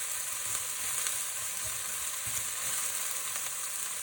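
Sausage and peppers fry in a pan, a steady close sizzle with soft scraping stirs as bits burnt onto the bottom are worked loose. No talking.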